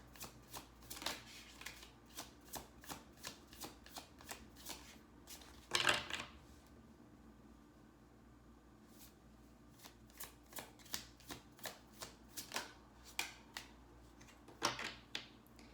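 Tarot cards are shuffled close by in rapid riffling bursts with a crisp clicking rhythm, separated by a brief louder shuffle and a quiet pause, without speech.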